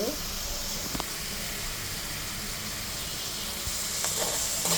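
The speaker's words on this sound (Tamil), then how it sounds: "ஆட் பண்ணிவிட்டு நல்லா ஒரு ஆயில் ஃப்ரை பண்ணிக்கோங்க" Vegetables frying in hot oil in a pan, a steady close sizzle running throughout with a few faint stirring clinks and soft speech in the background.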